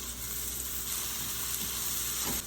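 Thin slices of ribeye beef sizzle steadily in avocado oil with garlic in a hot pan, a close, continuous frying hiss with faint stirring scrapes and no talk.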